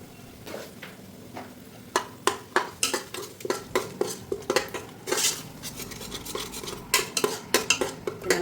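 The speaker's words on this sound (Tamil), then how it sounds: "பூண்டு அடி பிடிக்காமல் கிளறிட்டே இருக்கணும்." Garlic with ginger paste being stirred in a pot for mutton biryani, a rhythmic run of metal scrapes and clanks against the pot over a light sizzle.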